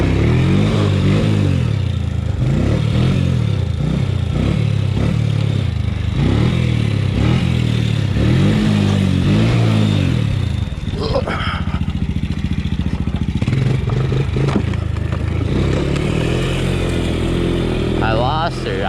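A Honda Fourtrax ATV engine revs hard in rising and falling surges during a wheelie, loud and close, then labors and sputters, with a voice speaking over it.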